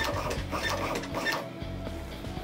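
A Zebra RXi4 RFID printer prints a label with a steady mechanical whirring and rattling that runs continuously at close range, with no voices.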